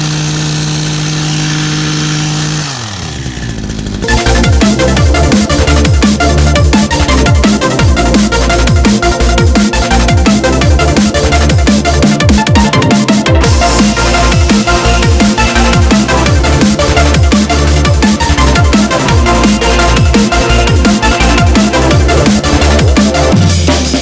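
Small gasoline engine, cold with fresh gas, a new spark plug and the choke on, fires after a single pull and settles into a loud, steady, rapid chugging idle that carries on to the end.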